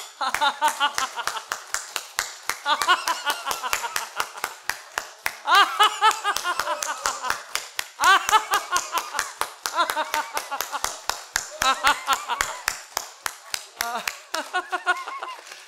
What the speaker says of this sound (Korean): 우리 20번 이상 박수치며 웃습니다